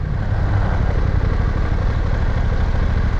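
A BMW F900 GS motorcycle engine runs steadily in first gear at about 1600 rpm, close by, a rough, continuous throbbing rumble with a slight clatter and jerkiness.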